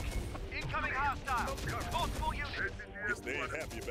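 Gunfire and sniper shots in Terminator Dark Fate Defiance, scattered cracks and bursts under a busy battle soundscape with chirpy unit noises.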